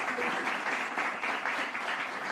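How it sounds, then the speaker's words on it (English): Audience applause for sponsors at a shad derby gala, a steady, dense wash of many hands clapping that holds evenly throughout with no voices over it. "Thank you for that round of applause for our sponsors."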